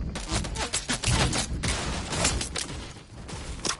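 Dense gunfire in a video game, a loud continuous volley of overlapping shots with little pause, near and harsh, with faint talk underneath.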